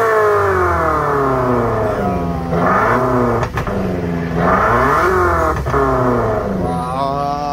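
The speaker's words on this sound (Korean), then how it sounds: "이게 1톤 트럭에서 나는 소리입니다" A loud, tuned one-ton truck, a Porter with dual mufflers, its exhaust revving hard in several rising and falling surges, throaty and close, with crackling pops between throttle blips.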